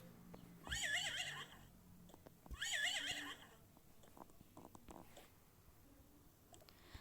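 A horse at a farm neighs twice, two long quavering whinnies a couple of seconds apart, over quiet outdoor background noise.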